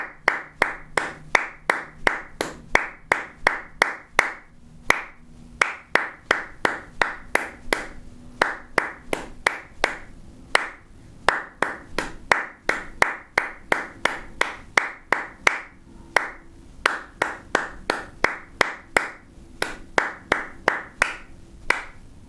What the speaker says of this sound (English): So I'll do the clapping, you play the sax part with repeats.